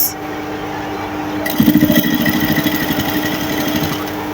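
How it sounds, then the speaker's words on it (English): A sewing machine top-stitches jumpsuit fabric, starting after a quiet stretch and running as a steady, rapid mechanical chatter close by for the remaining few seconds. "So I'm going to sew it, top stitch it towards this part"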